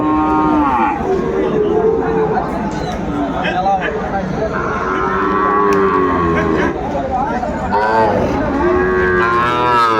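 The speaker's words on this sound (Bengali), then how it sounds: "শাহিওয়াল বাচ্চা ষাঁড় বাচ্চা আমরা দেখছিলাম ছোট ছোট" Young Sahiwal bull calves moo repeatedly and loudly at a crowded village cattle market, their calls overlapping above a busy murmur of people talking.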